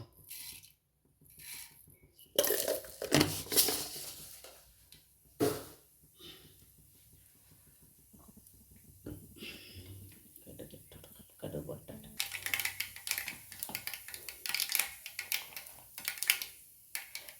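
Mustard seeds splutter in hot oil for a papaya thoran, a scatter of sharp crackles and pops in bursts, with someone talking between and over them.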